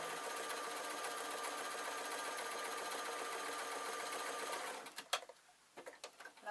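A sewing machine runs steadily while stitching a single fold into the top of a suit trouser waistband, a continuous fast whir that stops near the end, followed by a few soft clicks and handling noises.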